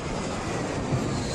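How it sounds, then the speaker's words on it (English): An aircraft at Heathrow Airport gives a steady, loud broadband engine roar heard alone in one brief continuous stretch. "the aircraft has now landed"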